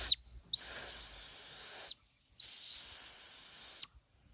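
A homemade survival whistle made from an aluminum can gives two loud, shrill, steady blasts, each lasting over a second with a brief pause between them, heard alone at close range.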